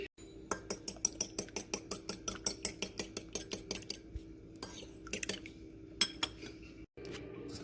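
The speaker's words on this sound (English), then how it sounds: "Crack an egg in a bowl and we're gonna beat it lightly." An egg being lightly beaten in a bowl for ginger cookies, a fast regular run of about twenty clinking whisk strokes against the bowl, close and clear, followed by a few scattered knocks.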